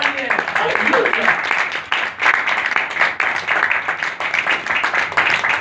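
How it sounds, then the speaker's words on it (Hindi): Church congregation bursts into loud, sustained applause and clapping that fills the room for several seconds, with some voices mixed in. "जोरदार तालियां।"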